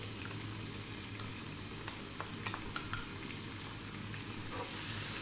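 Chopped onion added to hot oil with cumin seeds over high heat for a lamb shank masala curry, giving a steady, dense close sizzle with a few faint clicks of stirring, no voices.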